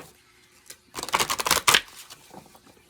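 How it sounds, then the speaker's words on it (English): Oracle cards shuffled by hand: a quick burst of riffling and flicking, about a second long, moderately close, with quieter handling rustles before and after. "I'm just going to give a little shuffle here."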